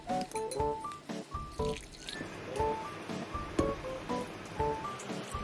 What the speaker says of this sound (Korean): 바로 찬물에 넣고 2번에서 3번 씻어주세요.